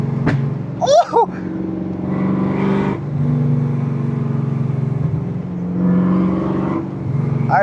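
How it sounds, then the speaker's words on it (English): BMW M5 E39 V8 engine revving steadily from inside the car, its loud drone rising and falling with a sharp burst near the start as it downshifts into second, while a voice calls out briefly. "Those downshifts to second, that's crazy."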